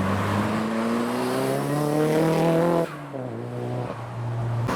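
Nissan S14 pulling into a Japanese car meet, its engine revving up in a rising, droning pitch, then dropping off sharply and settling to a lower rumble before a brief rev again, close by.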